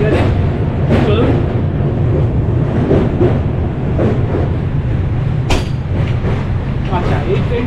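The Howrah Puri Superfast Express runs through the night, a loud, steady rumble of wheels with periodic clanks and knocks from the carriage, heard from on board.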